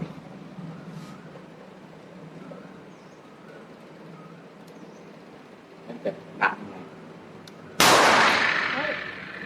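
Taurus 605 .357 revolver with a 2-inch barrel fired at a shooting range, one sharp loud report near the end with a ringing decay, after quieter background clatter and low murmur.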